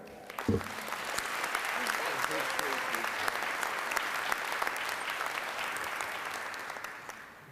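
Audience applause welcoming Dr. Dennis Kimbrough to the stage at a 100 Black Men Salute to Youth luncheon: steady, dense clapping from a large room that holds evenly for about seven seconds before tapering slightly.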